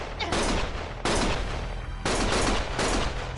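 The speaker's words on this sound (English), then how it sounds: "Stop shooting!" Sustained bursts of rapid gunfire in Lost Judgment, loud and close, coming in three long volleys separated by brief breaks.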